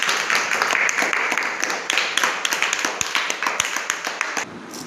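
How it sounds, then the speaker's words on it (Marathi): A group of students in an abacus class claps for a classmate, a bright, close round of rapid, slightly uneven hand claps that keeps a steady, lively pulse from start to finish, with no talking over it. "टाळ्या वाजवायच्या सगळ्यांनी त्याच्यासाठी."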